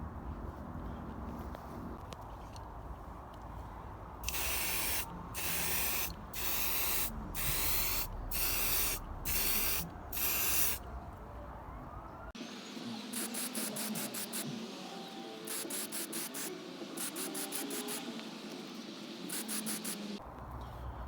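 Aerosol spray can applying green paint to a Tamiya Lunchbox RC car body, a series of close, loud hissing bursts in short rhythmic passes with brief gaps between them.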